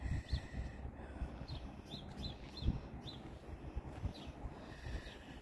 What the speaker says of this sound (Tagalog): Naririnig yung ang huni ng mga ibon.